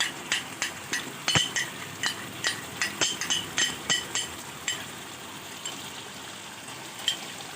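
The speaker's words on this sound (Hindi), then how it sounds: "अब इसके साथ इसको अच्छे से मिक्स करेंगे" Chicken being mixed with a cashew, almond and yogurt paste in a pot, with repeated sharp spoon knocks and scrapes against the metal over a soft sizzle, in an irregular rhythm that thins out toward the end.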